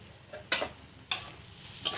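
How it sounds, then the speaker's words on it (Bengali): Sharp bursts of crackling and sizzling as whole cardamom pods pop in hot oil, three loud pops spaced out over a steady frying hiss. "এই দেখো শুধু দুটো গরম মশলা ফাটিয়ে দিচ্ছি"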